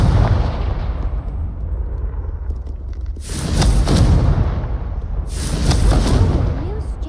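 Confringo spell explosions burst during Hogwarts Legacy video game combat as two heavy booming blasts a few seconds apart, loud and close, over a dense rumbling game soundscape.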